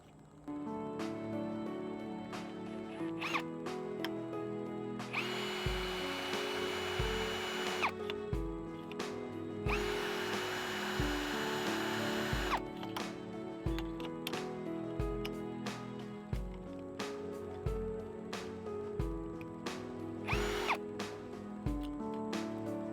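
A power drill whirs in two sustained bursts of several seconds each, surrounded by clattering, tapping workshop noises nearby.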